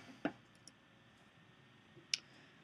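Soft mouse clicks on an OK button at a computer, two distinct taps about two seconds apart with faint ticks between, quiet and close in a hushed room.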